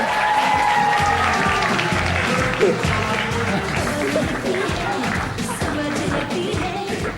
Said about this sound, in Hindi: तालियां हुमायूं के लिए